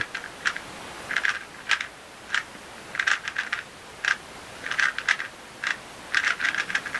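A Diane 2x2 speed cube turned quickly by hand: short bursts of crisp plastic clicks and clacks in quick irregular clusters, close and clear, separated by brief pauses, with no voices.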